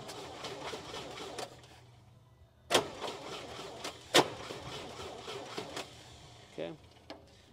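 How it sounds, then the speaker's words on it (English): The starter briefly bumps the engine of an International Scout 80 barn find, giving a short cranking whir plus a few sharp mechanical clicks, heard close and with no talking. "And let's bump the motor."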